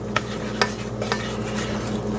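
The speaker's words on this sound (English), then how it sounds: "Just keep adding the flour and stirring it into the oil." A spoon stirs flour into oil in a pot, giving a few soft scraping strokes over a faint steady sizzle, close and fairly quiet.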